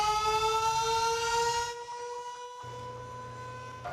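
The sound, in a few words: Dallas city emergency civil defense sirens sounding together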